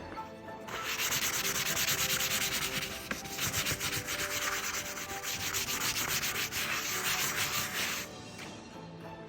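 Wax being buffed on engraved leather, a dense, steady high scrubbing rub lasting several seconds with a rapid fluttering texture, close and fairly loud, no voices.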